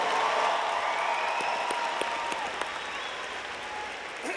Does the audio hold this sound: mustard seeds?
no